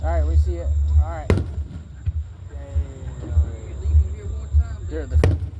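Fireworks at a 2025 Independence Day show in Marianna, Florida: two sharp booms a few seconds apart with faint crackle between, set against low outdoor rumble and nearby conversation.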